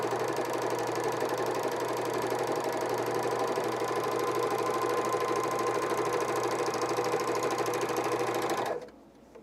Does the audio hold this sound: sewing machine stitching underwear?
yes